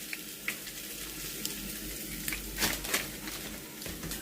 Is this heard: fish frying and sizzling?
yes